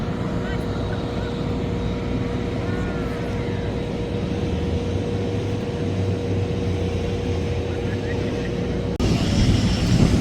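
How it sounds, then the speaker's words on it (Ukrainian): Aircraft in flight at an air show in Cleveland featuring F-16s, a continuous loud engine roar overhead with a steady tone, and people talking in the crowd while waiting in line. "Стоїмо в черзі, дивимося за тим, як знову в небі літак."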